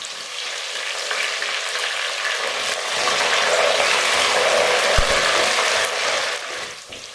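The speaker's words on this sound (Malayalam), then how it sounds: "ഇപ്പോൾ നമ്മുടെ കറിവേപ്പില കൂടെ ആഡ് ചെയ്ത് കൊടുക്കാം." Curry leaves hit hot oil already frying green chillies and garlic for gooseberry pickle, setting off a loud, dense crackling sizzle that swells and holds before easing, with a single stir knock midway.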